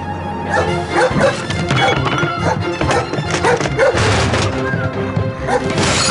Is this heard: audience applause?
no